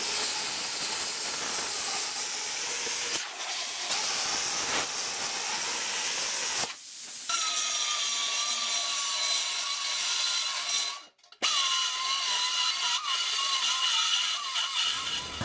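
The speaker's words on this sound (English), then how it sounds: "now I can cut the hole there" Steady abrasive hissing and grinding as a hole is cut in metal for custom exhaust headers, continuous loud rasping with a rising whine in the later part and a brief break near the end.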